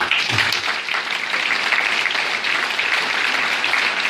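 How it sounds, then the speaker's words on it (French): Sustained audience applause at a wind band's marching concert, dense and steady throughout with no break, a faint low tone briefly near the start. "je vous demande de l'applaudir des fois."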